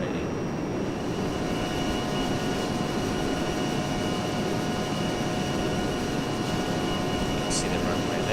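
Steady jet engine roar as an A-10C accelerates down the runway for takeoff in ArmA 3, a constant broadband drone that holds even throughout with no talk.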